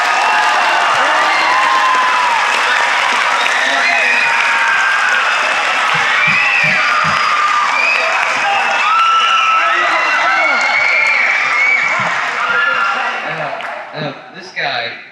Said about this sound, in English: And one more round of applause for the students.